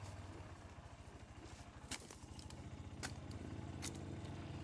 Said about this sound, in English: That sounds like a motorbike.